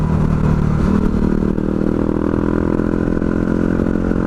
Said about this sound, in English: now this bike is on a tarmac, absolutely loving life, you know, winding it out.